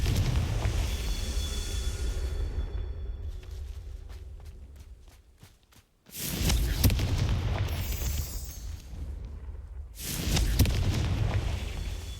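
Confringo fire spell exploding in the Hogwarts Legacy video game: loud, booming blasts with heavy low rumble, one surge after a brief quiet gap and another near the end, no speech over them.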